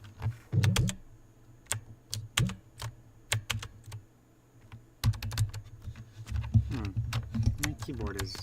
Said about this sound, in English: My keyboard is not helping me out tonight.